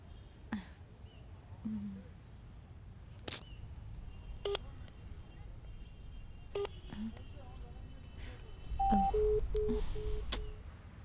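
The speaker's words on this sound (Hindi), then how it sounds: "अभी फोन करती हूँ उसको।" Short electronic keypad beeps sound one at a time at irregular intervals, followed by a quick run of dial tones near the end.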